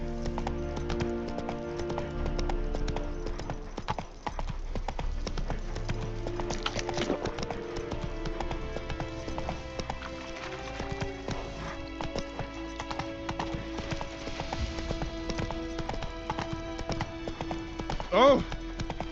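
Horse hooves clip-clopping at a steady gallop in the video game Witcher 3, continuous and rhythmic throughout, with game music and voices over them and a brief whinny near the end.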